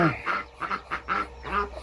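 Several short nasal quacks come in quick succession from nearby ducks, including Muscovy ducks, fairly quiet and rhythmic.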